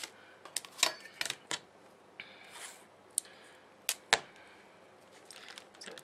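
Scissors snip paper into smaller strips, giving a few sharp, close cuts and light rustles spaced irregularly over a quiet background, with no talking.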